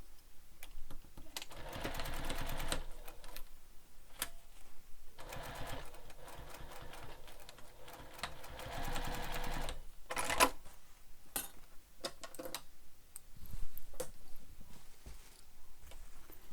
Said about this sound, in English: Trim your threads and sew the other side.